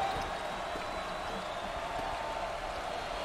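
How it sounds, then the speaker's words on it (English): Crowd noise from a packed arena at a 2023 NCAA March Madness first-round basketball game between Kennesaw State and Xavier, a steady dense roar of fans cheering throughout. "Listen to this crowd. Oh, there's all kinds of people standing and cheering and going wacky."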